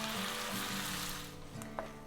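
Apples frying in a pan, a steady close sizzle with a few faint stirring clicks and scrapes near the end, no voices.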